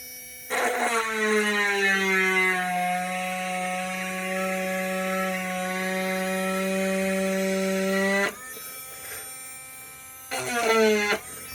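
A small power drill whines steadily for several seconds, stops, then briefly spins up again while drilling into windshield glass during a crack repair; the motor sounds close, with no talking.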